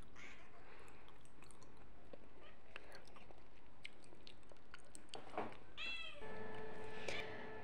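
An adopted pet cat meows several times near the end, close and fairly clear, over a faint indoor background with soft scattered noises before it.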